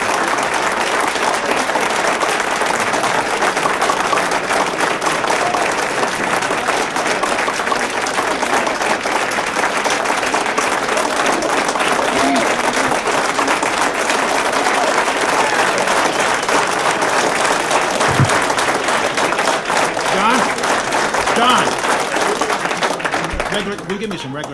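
Sustained audience applause at a public meeting, thick continuous clapping from a large crowd that holds at an even loud level throughout and only eases off at the very end.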